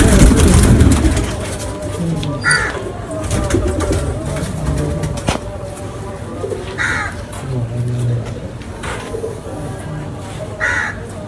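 Pigeons in a loft coo in low soft bursts amid a busy mix of cawing birds and rustling, with occasional voices talking in the background over the eleven seconds.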